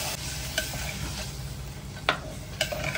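Boiled chickpeas tipped into a pan of sizzling tomato, red chili powder and spices, with a steady fry hiss and a few sharp scrapes and clinks as they are stirred, nearby and without talk.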